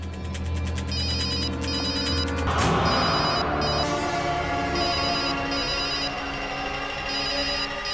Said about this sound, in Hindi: फोन की आवाज तो यहीं कहीं से आ रही है।